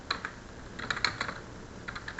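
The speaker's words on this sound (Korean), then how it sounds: "자, 컨트롤 물결무늬 눌렀습니다." Keys pressed on a computer keyboard for the Ctrl plus tilde shortcut in an Excel formula lesson, a few light clicks in small clusters, close and fairly quiet.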